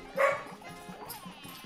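A dog barks in the video game Cuphead, one short yelp up front followed by quieter yips and game sounds, brief and moderately loud.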